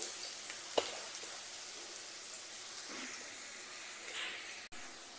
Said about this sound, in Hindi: मिर्च, इसको हम लोग भून लेंगे